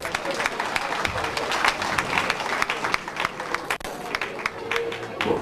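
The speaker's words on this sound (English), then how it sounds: "Proper round of applause for the lady" An audience at a Nigerian community association gathering applauds a woman, with lively, dense clapping running for several seconds and crowd murmur mixed in.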